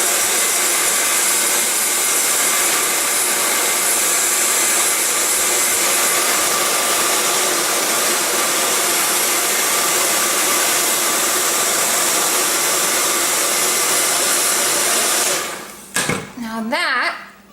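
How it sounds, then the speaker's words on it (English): A handheld blow dryer runs steadily, heating vinyl foil skin adhesive, giving a loud constant whirring hiss close to the microphone for about fifteen seconds before cutting off abruptly. "get us some heat with our blow dryer"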